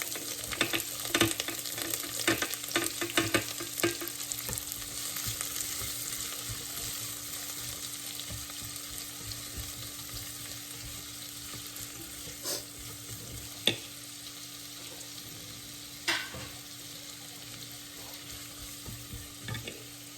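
Onions hit hot oil after browned garlic for Filipino goat adobo, a steady close sizzle with scraping stir strokes that are busier at first and then settle into a constant fry.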